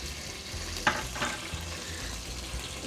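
Crushed vermicelli (sevaiyan) roasts in a pan for sheer khurma, giving a soft, steady sizzle with a few sharp scrapes and stirs, close and fairly quiet.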